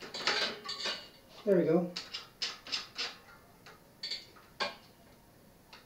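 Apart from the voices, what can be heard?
turning a bicycle wheel's quick-release skewer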